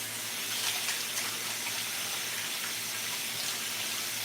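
Tap water runs in a steady, unbroken hissing stream into a sink, close and even, while water and salt are being added for preparing a pumpkin.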